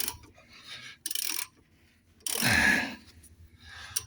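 A ratchet wrench loosens the anti-roll bar bolts on a Jaguar XK8, giving two bursts of fast metallic clicking with a louder, fuller burst in the middle, close by, and no talking.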